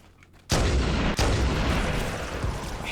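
Sniper rifle shots in Halo CE Anniversary, two loud, sharp reports close together, the first cracking in after a quiet moment and both trailing into a long booming echo.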